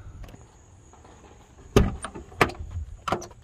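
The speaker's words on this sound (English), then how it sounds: "the door, it pops and it moves" Worn check arm pin on a Jeep XJ door makes a few sharp pops and clicks as the door is moved, three distinct knocks close by over a faint steady high-pitched background hum.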